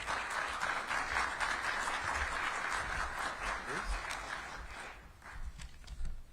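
Audience applause fills a mayoral remarks event at the annual DMPED March Madness, a dense, sustained wash of clapping from a sizable crowd that holds steady for several seconds before thinning slightly near the end.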